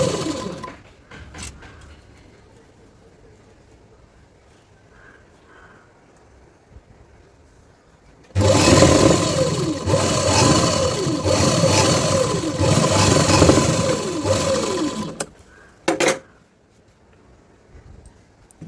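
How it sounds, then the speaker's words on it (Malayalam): A sewing machine stitches the back piece of a saree blouse in one loud, steady run of about seven seconds, framed by quieter handling noises before and after. "ഈ ബാക്ക് പീസിൻ്റെ സ്റ്റിച്ചിങ് ലൈനും ഈ സ്റ്റിച്ചിങ് ലൈനും ഒപ്പം വെച്ച് തയ്ക്കുക"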